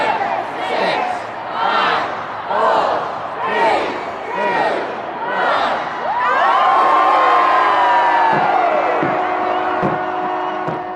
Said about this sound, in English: Thousands of people gathered there cheering as multicolored fireworks exploded across the city skyline at midnight